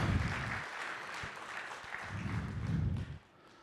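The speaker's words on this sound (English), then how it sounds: "let's do a big round of applause." An audience at an open mic night applauds loudly and steadily, with a strong wash of clapping that swells again near the end and then stops abruptly.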